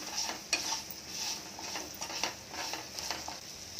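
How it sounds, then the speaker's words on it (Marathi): Sambar vegetables being sautéed in a pan over low heat: soft scraping stirs and a gentle, quiet sizzle repeat at an even, unhurried pace. "आता कमी गॅसवरती त्याला परतून घ्यायचं."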